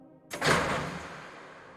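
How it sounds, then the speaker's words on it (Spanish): An old mansion door bursts open with a sudden loud thud and a long, dark rushing swell that slowly fades, standing alone in a quiet horror-story setting. "La puerta de la casona se abrió súbitamente"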